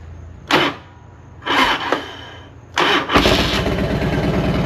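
A cold FXR motorcycle engine on choke cranks in three loud bursts of starter whine, then fires and settles into a throbbing, close idle.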